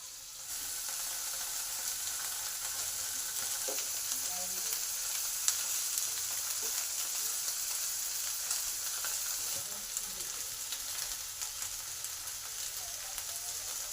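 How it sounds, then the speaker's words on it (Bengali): Paneer pieces fry in coconut oil in a pan, giving a steady, even sizzle with no talking. "পনিরটা দুদিকে হালকা করে ভাজা হয়ে গেছে"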